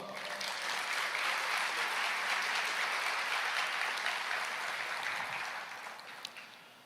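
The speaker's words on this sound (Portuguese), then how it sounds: "Você pode começar aplaudindo o Senhor?" A church congregation applauds together in a steady, fairly distant wash of clapping that swells and holds for several seconds before tapering off.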